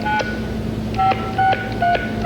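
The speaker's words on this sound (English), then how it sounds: "Please dial your 10-digit cellular number" Several telephone keypad DTMF tones, short distinct beeps spaced unevenly, dial a phone number on an automated phone line, heard clearly and alone.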